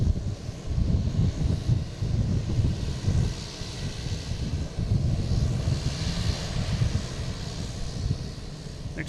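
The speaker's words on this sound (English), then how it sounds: "Next to arrive is Delta from Amsterdam, A330-900." A Delta Airbus A330-900 jet arriving from Amsterdam at Boston Logan airport roars with a steady, broad engine rush, distant yet strong, mixed with wind buffeting on the microphone and no talk.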